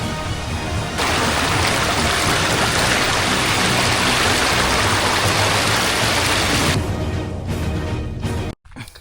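Steady, loud rush of river water during the first monsoon rain in woodland in the Konkan, a dense broadband wash running almost unbroken, then briefly cut off near the end.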